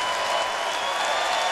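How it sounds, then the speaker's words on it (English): Basketball crowd at Pauley Pavilion cheering and applauding in a dense, sustained roar, loud and continuous throughout with no gaps. "The crowd ecstatic at Pauley Pavilion, rising as one"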